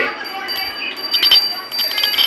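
A small bell rings in short bursts with bright metallic tones close by, over background chatter and voices.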